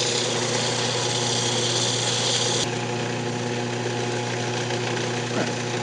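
A wood lathe spins a yew box while 600-grit sandpaper is held against it, giving a loud, steady whirring hum with a constant hiss that stays unbroken for the whole stretch.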